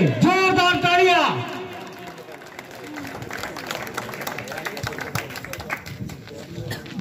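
Applause for the second prize winner at a regional Maharashtra idol singing competition. A voice speaks first, then a crowd's clapping and chatter fill the hall at moderate, uneven loudness and continue to the end.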